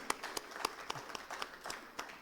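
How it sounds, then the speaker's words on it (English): Scattered claps from a conference audience honouring platinum partners, sparse and moderately quiet, with individual hand strikes standing out rather than a dense roar. "So please, again, a huge round of applause for our platinum partners."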